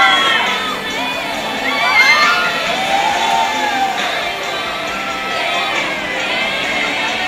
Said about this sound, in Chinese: 上面的朋友张大嘴巴， 来一点尖叫